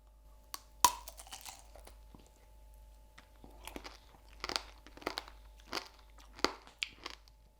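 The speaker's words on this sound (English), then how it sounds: "it gives you that pleasing crunch when you eat it." Close, crisp crunching and chewing of a grape coated in crack-hard candy sugar (tanghulu), a sharp first bite followed by a series of irregular brittle cracks as it is eaten.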